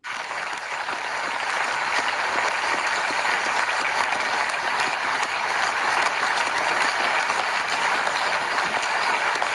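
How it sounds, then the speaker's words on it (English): Dense applause from a large audience, steady and sustained throughout, a continuous wash of many hands clapping without any voices standing out. "This is clapping."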